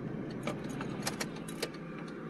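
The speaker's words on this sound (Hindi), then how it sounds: "बंद कर गाड़ी" Key turning in the ignition of a Maruti Alto manual car as the engine is switched off, with a few light metallic clicks and key jingles over a low running hum.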